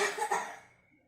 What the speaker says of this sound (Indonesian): Bila tidak, coba ibu batukan kembali secara kuat.